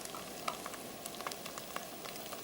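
Garlic ginger paste frying in a browned onion sauce for rogan josh, giving a steady soft sizzle with small crackles and pops, close and fairly quiet, with no talking.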